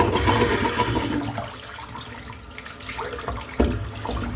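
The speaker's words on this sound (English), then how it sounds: "I'm just going to empty the sink." Water from an emptied sink gurgles and rushes down the drain in a steady broadband wash, close and fairly loud, with a brief splash or knock near the end.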